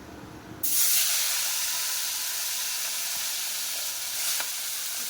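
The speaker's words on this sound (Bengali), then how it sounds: "তো দেখো ওই যে চিংড়ি মাছটা ভাজা বসিয়ে দিচ্ছি" Prawns drop into hot oil in a home kitchen pan, a sudden loud burst of sizzling that settles into steady bright frying hiss, with a brief flare near the end.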